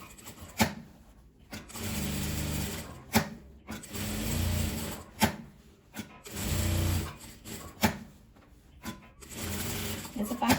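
A sewing machine stitches fabric for a pyramid-shaped pincushion in a triangle pattern, running in several short loud bursts of rapid mechanical whirring separated by pauses and sharp clicks, with someone talking in Portuguese between and over the runs.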